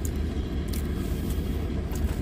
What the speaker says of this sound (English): That truck must be running though down there.